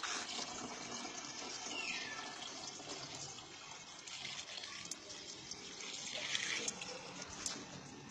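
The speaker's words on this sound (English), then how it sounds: "I just fill the machine with the water." Clean well water pouring steadily into a generator machine, a continuous gushing splash at close range with no talking over it.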